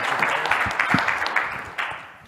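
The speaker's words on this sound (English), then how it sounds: "So please give them a nice round of applause." Audience applause at a business conference session on finance transformation, a dense wash of clapping for about two seconds that gradually thins and fades toward the end.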